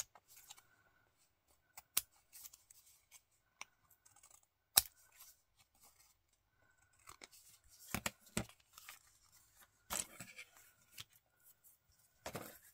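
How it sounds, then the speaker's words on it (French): Scissors trimming paper for an art collage card, a sparse series of crisp snips and small rustles spread out across a quiet background. "Je vais couper ce qui dépasse."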